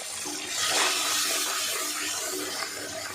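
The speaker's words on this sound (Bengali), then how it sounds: "মশলার বাটিটা ধুয়ে আমি একটু জল দিয়ে দেবো" Water poured into a rinsed spice bowl, a short rushing splash that swells after the first half-second and then settles into a steady pour, close by, with no voices.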